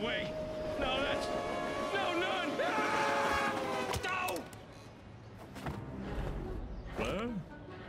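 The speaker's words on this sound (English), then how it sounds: "Ah, a ghost train!" A ghostly train rushes past in the LEGO Dimensions Simpsons level, its horn-like wails and rumbling building loudly, then fading, with a character's voice talking over it.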